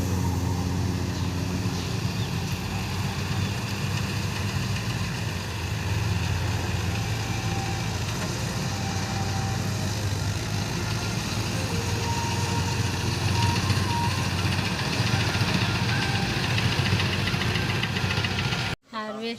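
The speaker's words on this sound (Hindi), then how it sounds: "ये देखो संगवारी हो हमार भैया हार्वेस्टर" A combine harvester cuts a rice paddy, its engine droning steadily and loudly throughout with a constant mechanical rumble, ending abruptly.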